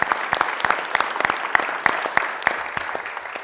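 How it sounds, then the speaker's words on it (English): Scattered applause for families at a city council meeting, a modest group clapping with distinct individual claps that thin out toward the end. "Can we get applause for their"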